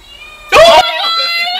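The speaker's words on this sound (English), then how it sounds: "She meowed twice." A house cat lets out one loud, brief meow close by, followed by a steady tonal hum in the room.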